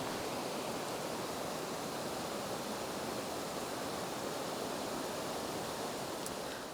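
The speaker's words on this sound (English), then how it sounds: "That's the River Fallock," The River Falloch on the West Highland Way rushes as a continuous, dense roar of moving water, steady and fairly close with no talking.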